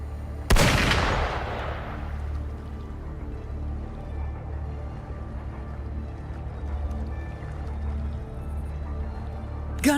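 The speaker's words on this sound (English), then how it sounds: "Gunfire! We've got intruders." Gunfire in the video game Wuthering Waves: one sharp, loud shot or blast that rings out and decays into a low ambient rumble, with a second faint crack at the end.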